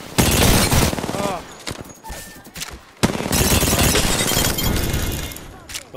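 Rapid automatic gunfire in the Apex Legends battle royale game, loud bursts filling most of the clip with a brief lull in the middle, while players talk over it.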